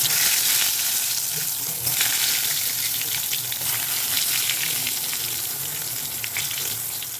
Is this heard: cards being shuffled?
no